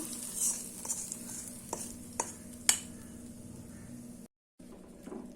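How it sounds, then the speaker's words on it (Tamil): Tempering is stirred into snake gourd kootu with a few sharp spoon clinks against the pot over a faint low sizzle, then a brief cut to silence. "இப்போ நம்ம தாளிப்பை இந்த கூட்டில் ஊற்றிடலாம்"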